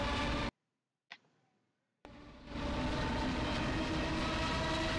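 Loud, steady rumble of a train rolling past in the bus-driving simulator OMSI 2, breaking in after a brief dropout and swelling back to a sustained roar with no talking.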